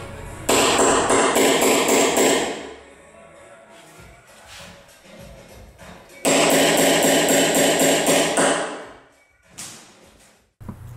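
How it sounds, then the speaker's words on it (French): A hammer drives a nail set to sink nail heads into plywood on a wooden solar panel frame, producing two loud bursts of rapid, closely spaced metallic taps, with a quieter stretch between them and a few isolated knocks near the end. "un passage au chasse-clous pour rentrer toutes les têtes un petit peu dans l'épaisseur du contreplaqué"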